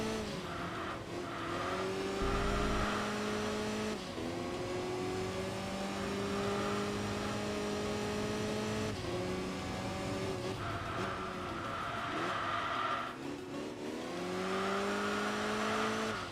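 A Mitsubishi Lancer Evo race car engine in the video game Enthusia Professional Racing roars continuously at high revs, with repeated gear shifts and rising pitch sweeps, loud and close.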